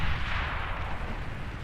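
A fusion reactor going critical in Beyond All Reason sets off a dense, continuous roar of booming blasts and rumbling explosions, loud and sustained throughout, with no talk.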